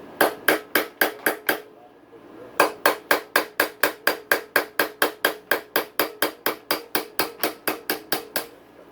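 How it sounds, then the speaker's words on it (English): Hammer striking the steering stem nut of a motocross dirt bike, about seven sharp metallic whacks, a brief pause, then a long even run of rapid blows, loud and close. "A couple more whacks."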